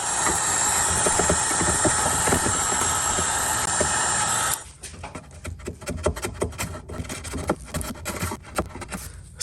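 A heat gun softening polyurethane finish on an Epiphone guitar roars in a loud, steady blowing rush for about four and a half seconds, then shuts off into quieter scraping and handling sounds.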